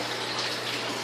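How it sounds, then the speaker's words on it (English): An air stone bubbles in a small aquaponics duckweed pond, giving a steady, close fizzing and trickling wash of water with no breaks and no voices. "I've got a little air stone in here just to make sure the water stays oxygenated"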